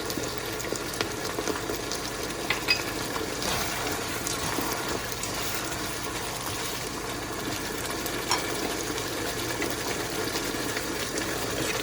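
Noodles and vegetables stir-fry with a constant, dense hiss and bubbling that runs without a break, with faint scrapes mixed in.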